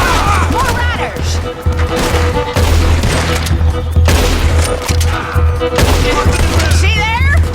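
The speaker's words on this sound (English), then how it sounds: "See there? A Gatling." Gatling gun fire in Red Dead Redemption II: loud, sustained bursts of rapid gunfire with booming impacts, broken by brief pauses, over layered game sound and shouting voices.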